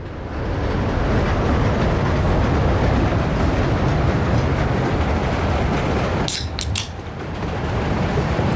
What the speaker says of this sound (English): We get a lovely view here of the train going out.